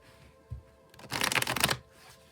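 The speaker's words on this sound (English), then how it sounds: "I'll shuffle till the deck feels ready" A deck of tarot cards is shuffled once in a brisk riffle, a short fluttering burst after a small tap, close and clear in an otherwise quiet room.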